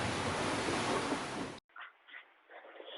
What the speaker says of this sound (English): We have between 10 and 25 knots of wind